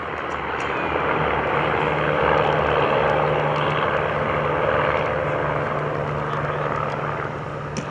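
Propeller aircraft of Team RV, a large airshow formation team, fly overhead at the Greenwood Lake Airshow, a steady, broad engine drone that holds at moderate loudness throughout with no voices.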